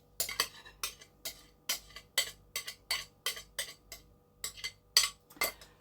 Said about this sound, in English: the palette knife, because that's what I can see, to make sure we get everything out